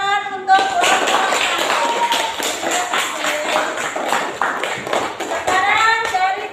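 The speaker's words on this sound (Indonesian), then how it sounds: "berikan tepuk tangan untuk kelompok" An audience claps for a group in a classroom presentation, a close, lively patter of many hands with a voice speaking briefly at the start and end.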